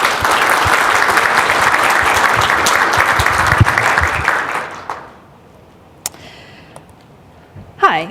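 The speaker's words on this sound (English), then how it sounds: "Everyone, give a round of applause to Katie." An audience at a tech conference talk claps for a speaker, steady loud applause lasting about five seconds, then dropping away to a quiet room with a couple of small thumps and a voice starting near the end.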